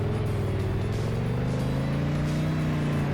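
Ferrari F40 engine in the Car Dealership Tycoon video game, a steady mid-level hum with its pitch slowly rising as the car gains speed, heard alone and continuously for a few seconds.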